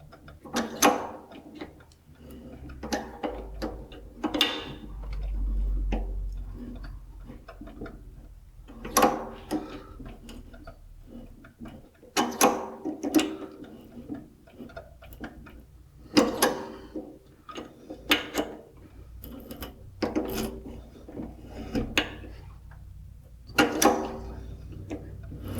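A large metric tap is driven through a quick-change tool post stud with a crescent wrench, making a series of irregular clicking and creaking bursts close up, separated by short pauses.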